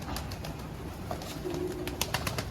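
Mardin pigeons cooing outdoors, soft low coos rising briefly in the middle, with other bird calls and light background noise around them.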